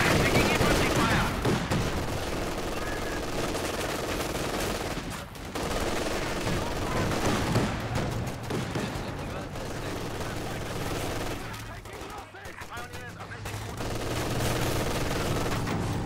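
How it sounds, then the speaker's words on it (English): Infantry gunfire in a video game rattles in dense overlapping bursts, a near-continuous volley with brief lulls, under a voice talking. "Taking infantry fire."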